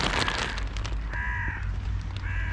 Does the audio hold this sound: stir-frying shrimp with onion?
no